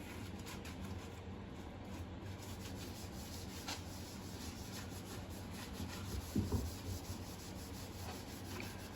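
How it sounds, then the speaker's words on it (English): Food-safe finish is rubbed by hand into a wooden charcuterie board, producing a quiet, continuous scrubbing friction with small rhythmic strokes and a brief louder scuff near the end. "You want to rub it in good."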